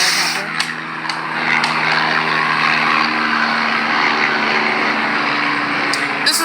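An LAPD police helicopter flies overhead with a steady rotor and engine drone. A voice talks over it.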